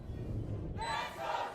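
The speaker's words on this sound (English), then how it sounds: "Crowd getting loud for the home team here." A crowd at a Valorant Game Changers Championship upper final cheers for the home team in a brief, steady swell of voices that grows slightly louder partway through.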